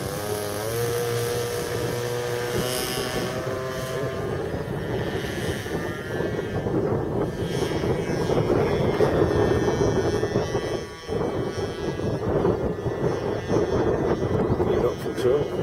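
A radio-controlled Extra aerobatic model airplane, flying on fixed landing gear in a crosswind, whines with a continuous propeller drone that rises and wavers in pitch as it maneuvers, loud and steady with little break.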